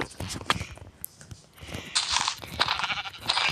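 Sheep bleating in a video game, a few short bleats amid soft footstep-like crunches, fairly close and clear.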